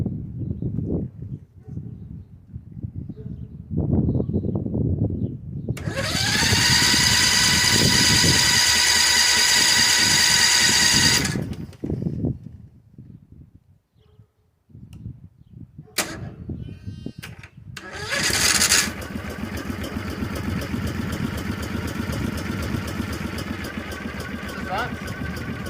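An 18 hp V-twin minibike engine starts from cold after months unused, roars loudly for several seconds, cuts out, then restarts and settles into a steady idle. A person talks before the first start.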